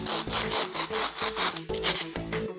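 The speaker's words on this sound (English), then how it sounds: "use the handsaw very carefully to cut this foam ball" A handsaw cutting a foam ball in half; quick, rhythmic back-and-forth rasping strokes, about a dozen in succession, close and fairly loud with no talking.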